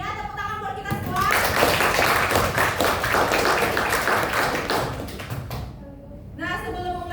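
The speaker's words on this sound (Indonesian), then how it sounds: "Ya, tepuk tangan buat kita semua." A school class claps their hands together in a morning classroom greeting, a dense burst of many hands lasting several seconds, with children's voices and an adult speaking at the start and end.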